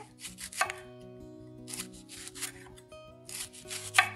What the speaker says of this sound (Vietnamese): bây giờ mình băm nhuyễn cái đầu hành lá